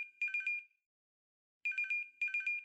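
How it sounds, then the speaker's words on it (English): A phone in the CHAOS;CHILD video game rings with a bright, warbling electronic trill that comes in three quick bursts, with a short silence after the first burst. "あ、電話だ。"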